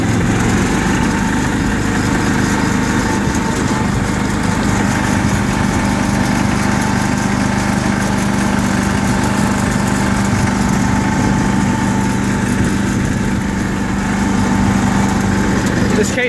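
A small garden tractor engine, a Kohler K341, runs steadily throughout, a constant droning hum with a buzzy edge, close and fairly loud with no pauses.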